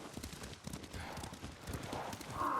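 Horse hooves clip-clop in Ghost of Tsushima, a faint, steady patter of hoofbeats with quiet background noise and no talk.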